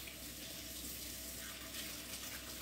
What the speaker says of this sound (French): je vais aller me passer les mains en dessous de l'eau